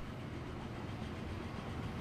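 A train rolls through in the rail-building game Transport Fever, a steady low rumble holding level for the whole stretch with no voices over it.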